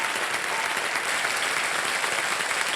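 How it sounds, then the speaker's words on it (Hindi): Studio audience applauding on the quiz show KBC, a dense, even burst of clapping that holds steady throughout. "तालियां बजती रहें इनके लिए।"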